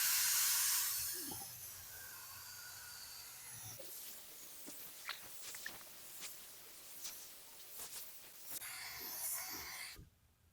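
Spray gun laying a primer coat onto Firebird bodywork, a strong airy hiss at the start that settles into a softer continuous spray with light taps and shuffles before cutting off.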